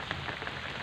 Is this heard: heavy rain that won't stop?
yes